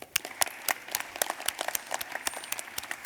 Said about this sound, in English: A very big applause for them.